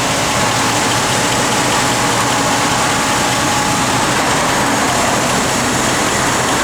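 A 1964 Cadillac De Ville convertible engine runs at a steady idle, a constant low rumble with broadband hiss throughout and no voices.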